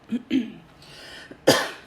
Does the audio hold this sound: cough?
yes